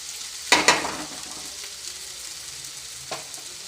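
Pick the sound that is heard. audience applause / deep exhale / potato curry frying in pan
potato curry frying in pan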